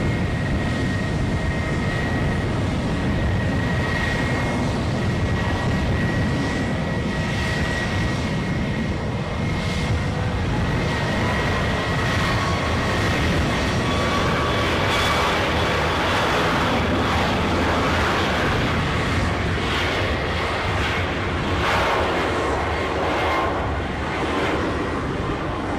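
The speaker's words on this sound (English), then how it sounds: "As that Ryanair Boeing 737 rumbles down the runway" A Ryanair Boeing 737 rumbles down the runway at Edinburgh airport on its takeoff roll, a loud, continuous broadband jet roar that swells and shifts in pitch over about twenty-five seconds, with no talking.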